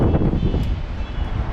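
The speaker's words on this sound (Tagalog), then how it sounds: "Sobrang hangin po dito." Strong wind buffets the microphone at a seaside fishing spot in a loud, continuous rumbling roar with gusty surges throughout.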